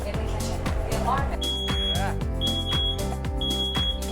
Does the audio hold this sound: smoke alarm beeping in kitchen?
yes